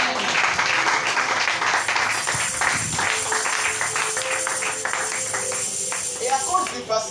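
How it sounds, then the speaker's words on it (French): A church congregation applauds in sustained, dense clapping that carries on for several seconds, with voices talking and calling out over the applause. "Acclamez le Seigneur ce matin."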